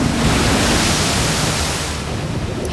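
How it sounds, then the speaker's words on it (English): Strong wind roars across open sea with crashing waves around an offshore fish farm work boat, a dense, loud, unbroken rush of noise with no speech. "the wind has really picked up"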